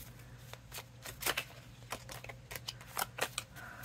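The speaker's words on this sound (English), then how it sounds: "Let's do a shuffle." Rapid riffling bursts of playing cards being shuffled, a few quick clattering flurries close by with a steady low hum underneath.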